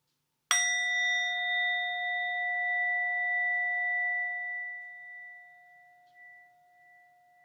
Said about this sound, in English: as the bell rings out